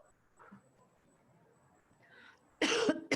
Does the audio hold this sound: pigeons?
no